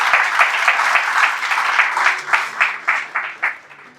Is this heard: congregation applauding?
yes